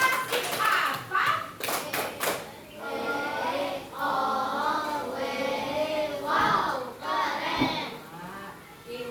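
Children in an elementary school classroom clap together in several quick bursts of rhythmic hand claps, mixed with kids' chatter and voices throughout.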